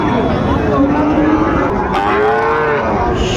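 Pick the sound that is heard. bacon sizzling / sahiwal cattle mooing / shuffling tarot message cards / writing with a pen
sahiwal cattle mooing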